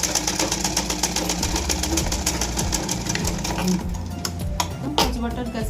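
A sewing machine stitches a blouse with a steady rapid mechanical whir and clatter, close and loud, with a few clicks near the end.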